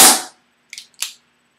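A Daisy Powerline 15xt BB air rifle loaded with .177 zinc-plated BBs fires one sharp, loud crack that decays quickly, followed by two faint, brief clicks in otherwise quiet surroundings.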